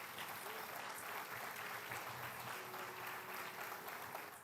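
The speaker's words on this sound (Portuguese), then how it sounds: "Você pode aplaudir ao Senhor Jesus," A church congregation applauds during a sermon, a dense, even wash of clapping that holds steady from start to finish at moderate distance, with no voices over it.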